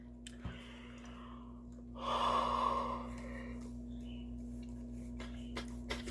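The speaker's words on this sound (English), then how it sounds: "I apologize for yawning." A person yawns once, a drawn-out breathy exhale of about a second that rises and fades, with a steady low hum underneath and no talking.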